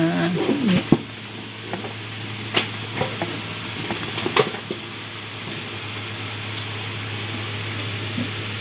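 A food processor grinds homemade hotdog mixture with a steady motor hum, while intermittent scraping and knocking sounds mark the mixture being scraped and stirred, with no talking.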